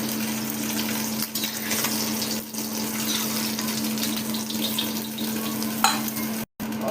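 Fish frying on a hot tawa for a mandali machhi curry, a loud, continuous close-up sizzle with a steady hum beneath and a brief drop to silence near the end.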